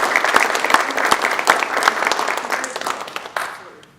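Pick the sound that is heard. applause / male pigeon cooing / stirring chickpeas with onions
applause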